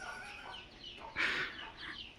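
Backyard chickens give a single short, faint cluck with no one talking.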